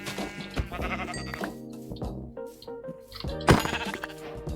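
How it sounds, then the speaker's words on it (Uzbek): Sheep in a survival video game bleat several times in a row, clear and close, over game music and chiming effects. "Bu ham yaxshi qo'y ekan."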